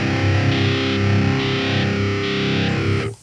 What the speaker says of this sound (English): Which is sort of the standard Pod HD, boxy, crappy sound